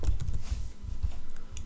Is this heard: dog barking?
no